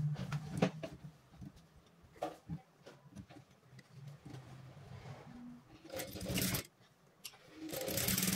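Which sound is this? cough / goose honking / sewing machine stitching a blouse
sewing machine stitching a blouse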